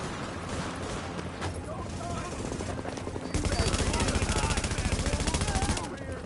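Automatic rifle fire in The Division, a shooter video game, rapid bursts of shots that swell into a louder, dense stream of gunfire before easing, with a voice talking over it.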